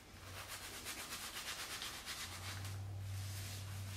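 Soft, steady rubbing of hair worked gently through the ends with clarifying shampoo and baking soda, a close, quiet friction texture over a low background hum.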